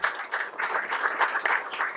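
Members at a football club's general assembly applaud in a short burst of brisk, even clapping that fills the room and stays fairly close.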